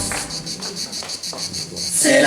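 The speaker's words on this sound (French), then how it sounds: "C'est la chanson des cigales." Cicadas sing during a live outdoor theatre performance at a spring festival, a steady, shimmering high buzz pulsing in quick regular waves before a louder burst of sound at the end.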